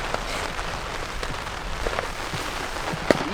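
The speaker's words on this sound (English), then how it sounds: "we got a little bit of drizzle coming down here" Light drizzle falls at a beach campsite as a steady, soft hiss of rain. Scattered small drop taps sound on nearby surfaces, with one sharper tap near the end.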